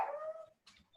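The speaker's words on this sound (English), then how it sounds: "Can you hear my dog?" A pet dog gives a high, wavering whimpering whine that slides down in pitch and fades, followed by short breathy yips, heard fairly close in an indoor room with no talking.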